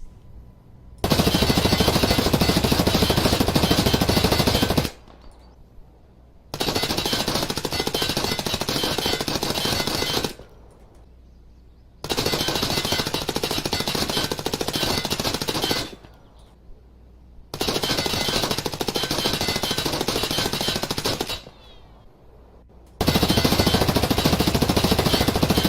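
A suppressed MP5 fires full-auto in Escape from Tarkov, five long sustained bursts of rapid, harsh clatter separated by short silences, loud and close with no voices.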